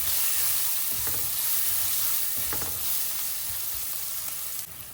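Steady, close sizzling of green chillies, grated ginger and a pinch of asafoetida frying in a pan, with a few soft scraping stirs breaking through the continuous hiss and no voices.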